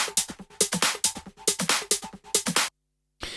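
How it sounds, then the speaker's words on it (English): A basic raw drum loop sample played in Ableton Live for a trance track, with punchy kick and snare hits and bright hats in a steady repeating pattern, cutting to silence before one more hit enters. "It's just a basic drum loop sample."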